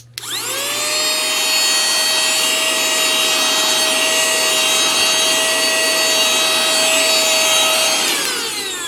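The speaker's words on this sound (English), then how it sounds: "now we can vacuum something" A cordless vacuum cleans dust off a box, whirring steadily with a high motor whine, spinning up at the start and winding down at the end, loud and close.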